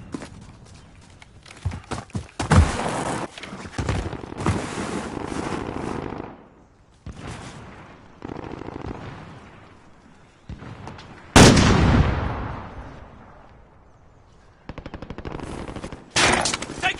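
Rapid automatic gunfire in Call of Duty Warzone, with loud bursts and rattling volleys broken by short pauses, including a sharp heavy blast near the middle and more firing at the end.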